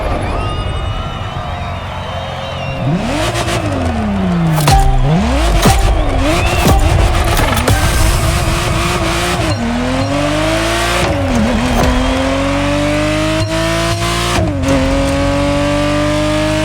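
A Ferrari Testarossa engine in The Crew Motorfest racing game, loud and close, revving hard through repeated rising and falling gear changes with a sustained growling roar and occasional sharp transients.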